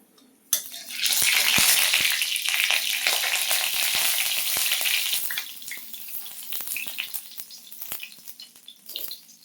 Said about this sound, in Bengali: আমি একটু কালো জিরা ফোড়ন দিয়ে দিলাম